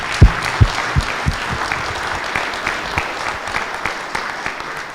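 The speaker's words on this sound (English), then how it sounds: "So another round of applause for Corey" Applause at a company all-staff quarterly meeting, a few sharp, close claps at the start over a steady wash of clapping from a group, gradually easing off.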